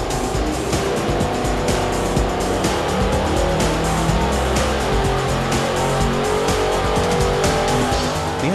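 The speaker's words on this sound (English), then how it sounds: "they can buy the complete engine as you see here that we're testing" A Chevrolet LS2 crate engine runs under load on a dynamometer, a loud, continuous, high-revving roar with steady harmonic drone throughout and no talking.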